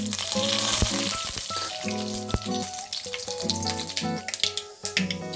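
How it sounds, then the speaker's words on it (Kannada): Mustard and cumin seeds spluttering in hot oil for a curry-leaf tempering, a loud close sizzle broken by sharp pops and crackles that grow more scattered and irregular as it goes on. "ಚಟಪಟ ಸಿಡಿದಿದೆ"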